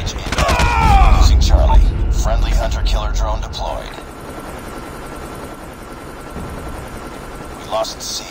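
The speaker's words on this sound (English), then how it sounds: "Friendly Hunter Killer drone deployed." Hunter Killer drone from Call of Duty Mobile, a loud whirring rotor hum with crackling gunfire and voiced game callouts over the first half, then fading to a quieter, steady background drone.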